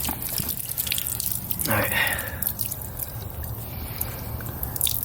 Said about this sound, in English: it just fills up and backs up. It doesn't even make it to the other side.